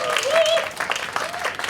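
Applause from a concert audience at a Korean music event with accordion and piano performers, a dense patter of clapping that swells and fades under a person's talking.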